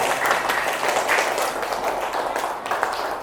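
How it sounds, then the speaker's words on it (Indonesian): Classroom of fourth-grade pupils clapping for a group after their presentation, a dense, steady burst of close hand claps lasting a few seconds with faint voices mixed in. "tepuk tangan buat kelompok"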